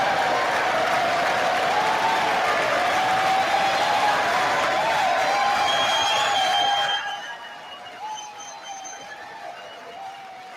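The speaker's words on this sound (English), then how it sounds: "Thank you for that very generous applause." Applause fills the House chamber during the speaker vote, broad sustained clapping and crowd noise for about seven seconds before dropping away to quieter murmur and a speaking voice.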